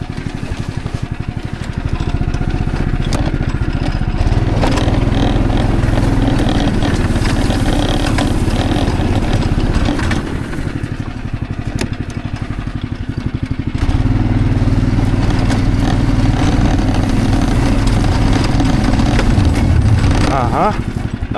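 Engine of a rail vehicle on an abandoned narrow-gauge railway, running steadily as it reverses, a loud continuous near rumble with a brief dip in the middle and people talking over it.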